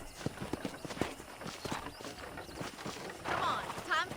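Rhythmic clip-clop of horse hooves at a walk in the video game Red Dead Redemption, moderately close, with a voice speaking faintly over the steps.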